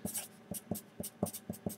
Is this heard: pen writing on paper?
yes